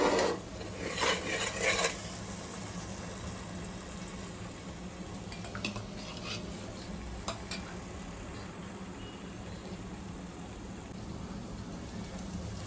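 Masala for a spicy Maharashtrian chicken curry is stirred in a pan, giving a continuous gritty sizzle and scraping with occasional metallic clinks of the spoon, denser in the first two seconds and then steady, with no talking.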